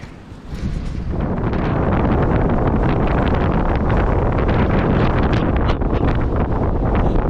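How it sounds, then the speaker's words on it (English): Strong wind roars across a rocky hilltop in Black Rock Forest, New York, buffeting the microphone with a loud, steady, gusting rush that swells after the first second and never lets up. "That is a powerful wind."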